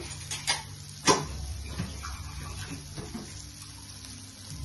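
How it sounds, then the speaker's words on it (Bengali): Water is poured into a pan holding paneer papad cutlets, giving a soft splashing wash with a few sharp knocks near the start. "জল দিয়ে দিচ্ছি।"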